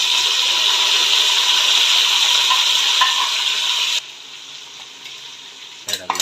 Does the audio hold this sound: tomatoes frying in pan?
yes